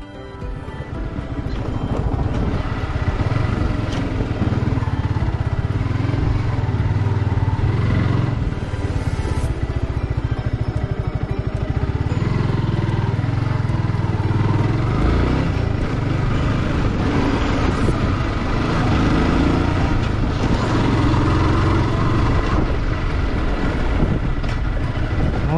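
A Yamaha R15 motorcycle rides on at a steady pace, its engine and wind rush loud and continuous throughout with no breaks.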